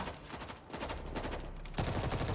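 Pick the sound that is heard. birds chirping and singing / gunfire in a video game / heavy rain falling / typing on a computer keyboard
gunfire in a video game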